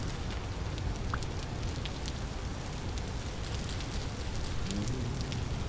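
Rain falls continuously in a survival video game, a dense, even hiss of drops on surfaces that fills the whole stretch at moderate loudness with no voices over it.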